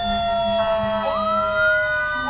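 Fire truck sirens wail at a Columbus Day parade in Morris County, a loud steady siren tone sliding upward partway through, close by and sustained with no talking.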